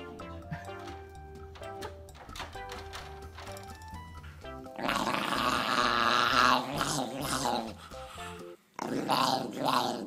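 A dog growls in low, rasping bursts that swell loudest midway, broken by brief pauses and a few whimpering, tonal sounds.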